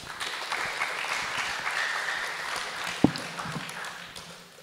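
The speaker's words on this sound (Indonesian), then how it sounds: "Tepuk tangan buat narasumber kita, hebat-hebat ini." An audience at a congress session in Indonesia applauds the speakers with sustained, even clapping, with one sharp knock partway through.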